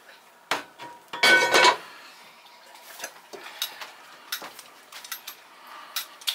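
Dishes and a heavy 12-inch pan knocking and clinking during plating, a scattering of sharp clatters and taps with one louder metallic rattle near the start, close by and without speech.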